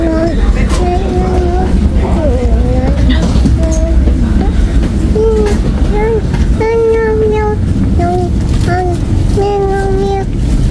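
A three-level train running from Venice to Bologna, Italy rolls along with a steady, loud rumble, and people talk over the constant noise throughout.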